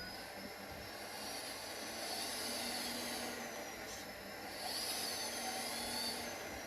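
A 1/20 scale L996 RC excavator slews left and right, giving a steady, fairly quiet whine of small electric drive motors and gears that rises and falls in pitch, with no talk over it.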